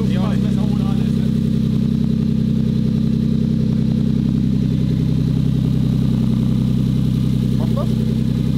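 A 2JZ turbo engine idles smoothly with no mass airflow sensor fitted, giving a steady low rumble close by throughout, with people talking over it.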